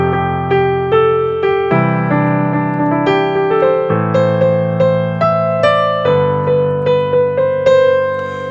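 Piano playing the drop melody from a song on white keys only, a bright, steady run of plucked-sounding notes over held bass chords that change every couple of seconds, loud and close with no talking.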